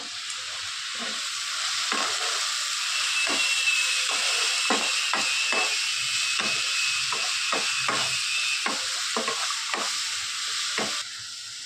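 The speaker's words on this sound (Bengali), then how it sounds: "এই যে এবার ভালো করে নাড়াচাড়া করে নেব।" Ash gourd curry with lentil dumplings, chili powder and cumin stirred in a frying pan: rhythmic scraping strokes of a spatula over a steady, loud sizzle, ending with the sizzle alone.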